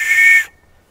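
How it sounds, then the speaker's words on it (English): A safety whistle on a trail walk at Euchee Creek Trail in Grovetown, Georgia, gives one loud, shrill, steady blast of about half a second, then cuts off abruptly. "They say you can blow a whistle a lot longer than you can yell help."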